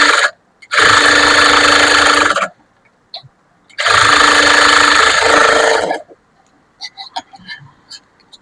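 A sewing machine stitches a blouse lining in two loud, close, steady bursts of rapid whirring, separated by a pause, with faint clicks and handling afterward.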